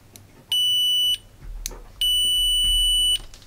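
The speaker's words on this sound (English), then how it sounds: "now I'm gonna try the continuity test, and also is for diode." An Aneng SZ308 multimeter sounds two continuity-test beeps, a short steady tone and then a longer one, each sharp and clear, with faint handling clicks between them.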